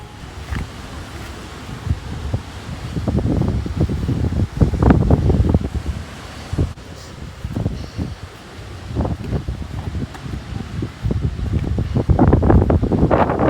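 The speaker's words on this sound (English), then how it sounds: "the wind is blowing up and pushing me away from the cliff face" Wind blows up a cliff face beside the edge where the stream pours over Yosemite Falls, a loud, uneven rushing with repeated gusts and microphone buffeting throughout.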